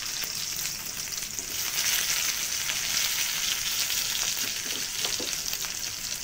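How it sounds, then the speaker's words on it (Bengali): Onions frying in oil in a wok, a steady close sizzle running throughout with light crackles, alone and without any talk. "কড়ার মধ্যে পেঁয়াজগুলো একটু তেল দিয়ে দিয়েছি, কড়াইতে একটু ভেজে নেব।"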